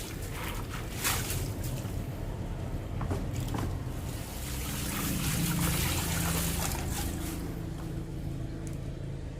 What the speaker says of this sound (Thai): ฉะนั้นเวลาล้างเราก็ เขย่าน้ำออกแบบนี้